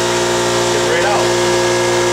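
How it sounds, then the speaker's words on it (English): An air compressor running in a garage during a Ford F250 ball joint replacement, a loud steady mechanical drone with a constant low hum and a voice speaking over it. "All right, so air compressor came on"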